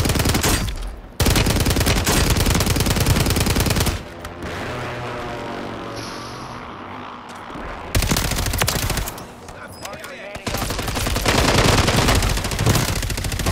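Loud bursts of rapid automatic gunfire in Call of Duty multiplayer, close and harsh, coming in long sustained volleys separated by brief quieter gaps with muffled action between them.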